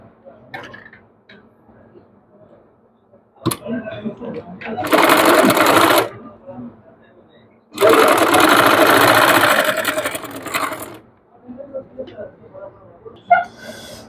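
A sewing machine stitches a baby frock in two loud bursts, one short and one longer, close by, with someone speaking before, between and after the runs.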